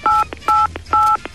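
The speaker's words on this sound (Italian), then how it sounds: "Per il consulto schiacciami quattro volte l'asterisco" Four-ish dual-tone telephone keypad beeps for the asterisk key, loud and close, each short tone evenly spaced in a quick regular rhythm with faint clicks between presses.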